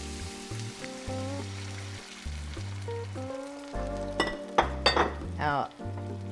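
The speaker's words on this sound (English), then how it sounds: "So I'm going to add the 2 cups of vegetable stock." Liquid sizzles and bubbles in a hot pot as vegetable stock goes into a lamb shank braise, with faint clinks of utensils and a louder burst of hissing midway.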